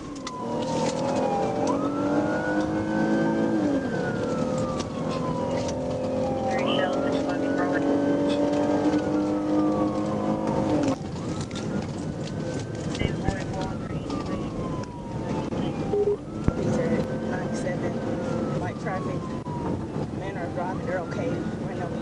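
A police car siren wails in repeated rising and falling sweeps during a highway car chase, loud against steady road and engine noise, with radio voices talking underneath.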